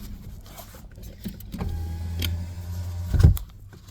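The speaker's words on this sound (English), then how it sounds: "Let's roll up the window, though." A car's power window motor whirs steadily for a couple of seconds, ending with a soft thunk as the glass seats shut.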